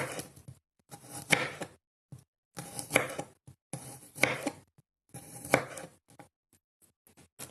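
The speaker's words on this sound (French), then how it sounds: "Donc de l'ail pour rajouter dans notre préparation. Donc on va découper en fines lamelles" A knife cuts garlic into thin slices on a board in four bursts of quick, close tapping strokes, each separated by a short pause, with no voices.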